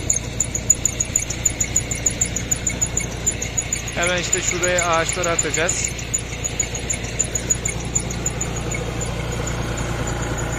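A New Holland T3.75B tractor engine runs steadily with a low, continuous drone while spraying olive trees with an atomizer sprayer in a village orchard; someone speaks briefly over it partway through.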